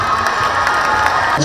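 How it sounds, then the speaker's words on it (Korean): At the opening ceremony of a taekwondo festival in Pyeongtaek, a large crowd cheers and shouts with children's voices among them, while clapping runs underneath in a loud, continuous burst. "함성과 함께 큰 박수 부탁드립니다."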